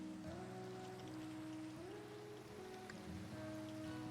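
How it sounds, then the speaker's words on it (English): Minecraft rain falls as a steady, soft hiss of drops on surfaces. It is layered with sustained low tonal game music that shifts pitch every second or so, and no one speaks. "Come on, get out of the rain."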